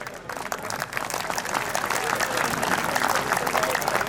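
Sustained applause from a large crowd at a Khokhar Jat community gathering, dense steady clapping that swells slightly and holds at a fairly loud level for several seconds.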